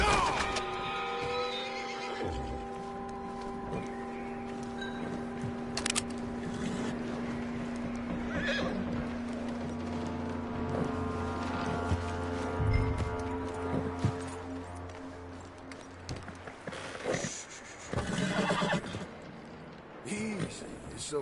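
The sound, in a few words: horse whinnying in video game Red Dead Redemption 2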